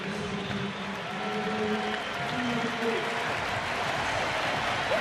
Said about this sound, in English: Albert Pujols will come up to the cheers of his home crowd